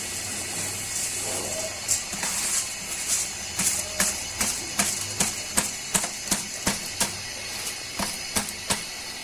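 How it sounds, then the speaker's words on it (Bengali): Pre-washed polao rice being added to a cooking pot for chicken biryani, with a steady run of sharp, evenly spaced clinks and taps under a constant hiss, close and moderately loud, with no talk. "এখন আগে থেকে ধুয়ে রাখা পোলার চালগুলো দিয়ে দিচ্ছি"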